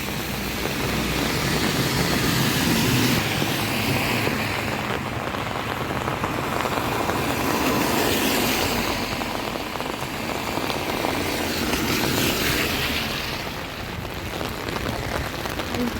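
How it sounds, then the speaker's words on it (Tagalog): Heavy rain pours steadily onto a surface outdoors, a dense continuous hiss of drops with no letup, loud and close throughout. "Lakas ng ulan."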